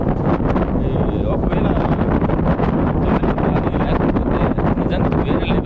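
Strong wind blows at a campsite at night as a loud, steady roar of buffeting across the microphone, continuous and dense throughout with little change in force.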